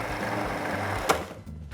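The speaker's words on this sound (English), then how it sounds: "straight into the food processor. And you're gonna whiz this for about 5 seconds" Food processor whizzing basil and parsley for a meatless burger, a steady high mechanical buzz running close and continuous before cutting off abruptly near the end.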